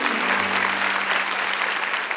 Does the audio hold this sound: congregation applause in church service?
yes